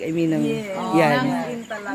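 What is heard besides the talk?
crickets chirping at a farm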